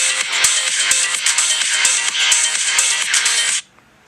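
Music plays from the built-in speaker of a red iPhone 8, a bright, steady melody with regular beats that stops abruptly near the end, leaving near silence.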